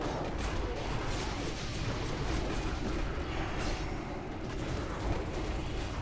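Arcane Explosion spell cast again and again in World of Warcraft Season of Discovery, a dense, continuous barrage of booming bursts in quick succession, loud and unbroken throughout.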